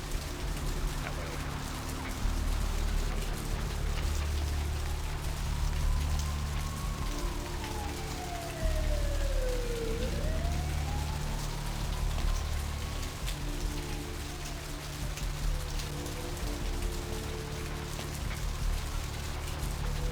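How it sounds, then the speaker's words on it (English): Steady heavy rain pours on surfaces in the video game Vampire The Masquerade: Bloodlines, a loud continuous hiss with a low droning ambience and a faint sweeping tone in the middle. "why is the rain still so fucking loud?"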